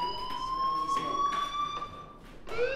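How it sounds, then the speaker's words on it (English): A fire alarm in the video game Life is Strange sounds a steady, piercing electronic tone that holds for about two seconds, then breaks off and starts again, with no voices. "do you hear that fire alarm?"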